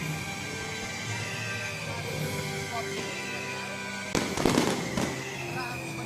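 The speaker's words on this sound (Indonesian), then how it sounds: "Kembang api yang memeriahkan closing ceremony" A burst of fireworks at a closing ceremony crackles and pops for about a second amid a steady crowd murmur, with a few fainter bangs trailing afterward.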